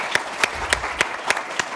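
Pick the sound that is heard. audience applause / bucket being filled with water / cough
audience applause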